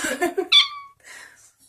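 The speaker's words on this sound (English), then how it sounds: "my phone meows" A cartoon cat meow from the Talking Tom phone game, a short bright mewing call with falling pitch after a few quick breathy sounds, followed by fainter chirpy game noises.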